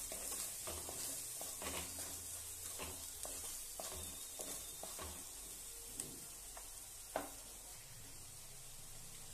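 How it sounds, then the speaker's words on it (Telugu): Fresh ginger garlic paste frying and being stirred in a pan for a prawn curry, a steady close sizzle with scraping spoon strokes and a few sharper taps, with no voices. "ఫ్రై అవుతుంది అల్లం వెల్లుల్లి పేస్ట్."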